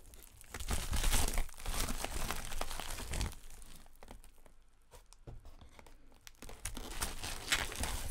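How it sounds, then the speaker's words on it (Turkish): Plastic packaging around acrylic paints is torn open and crumpled, giving close, continuous crinkling and tearing bursts with short pauses between handfuls and no talk. "Öncelikle şu paketleri bir açalım. Teker teker açıyoruz."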